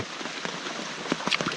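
Light rain in the jungle, a faint, soft spatter of drops on nearby surfaces with a few sharper individual hits over a brief stretch.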